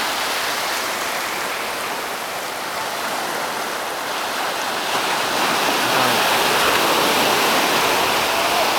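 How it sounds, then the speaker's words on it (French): Broad, steady wash of water at the shoreline, waves breaking and rushing in close by, the roar swelling louder toward the end, with no voices heard. "il y a une vague, une vague"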